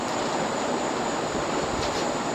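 A circa-1980 SMC 52-inch Spinner ceiling fan, model KC52, runs at speed, giving a steady broadband whoosh and hum with a thin high whine, constant and fairly loud, with no voices.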